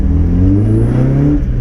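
A modified Mk1 Mazda MX-5 pulls hard while driving on a freezing road, its engine rising in pitch as it revs up through the gear, loud and close with a droning, buzzy tone.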